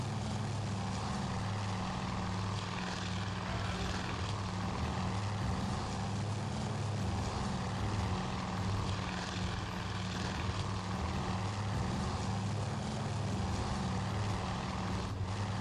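Propeller engines of TBD torpedo bombers from the Task Force Admiral naval combat game drone steadily throughout, a loud continuous droning hum with strong low harmonic bands, close and unbroken, with no talking.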